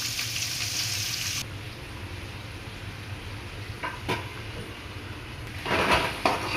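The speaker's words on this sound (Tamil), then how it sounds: "இஞ்சி பூண்டு நல்லா வெந்துட்டு இப்போ நம்ம ஆனியன் ஆட் பண்ணுறோம்." Onion tipped into a hot pan of ginger and garlic for home-made fried rice, a steady close sizzle that briefly drops in tone, then softer frying with a few stirring clinks and a louder scrape near the end.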